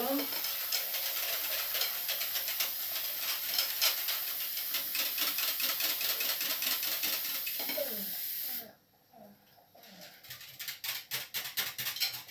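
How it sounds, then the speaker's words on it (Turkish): Water poured into a hot pan while making kuymak sets off a loud hissing sizzle. The sound cuts off abruptly near the end, then comes back as softer rhythmic stirring scrapes. "Evet hemen suyumu buraya akıtıyorum."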